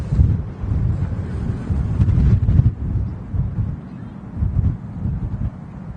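Strong gusty wind at Manchester Airport roars and buffets the microphone in loud, low swells that rise and fall throughout.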